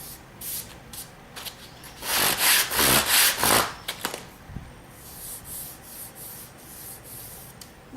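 A hand presses and rubs along a freshly cut cardboard edge to flatten it, making dry scuffing and rubbing noises that swell loudly for a couple of seconds and then fade to lighter intermittent brushing.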